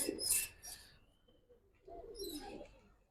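Silver Giribaz pigeons coo in soft, brief bursts, with one call near the start and another about two seconds later, a quiet pause between them.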